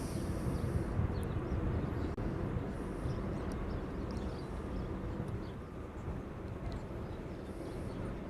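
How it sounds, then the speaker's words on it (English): A Boeing 787 Dreamliner arriving at Honolulu airport, heard as a steady, broad jet roar that stays loud and fairly close throughout, fading only slightly toward the end. "This is another shorty Dreamliner"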